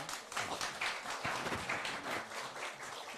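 An audience at a Korean church Bible lecture claps in a soft, even patter of applause, heard faintly and steadily throughout with no voices over it.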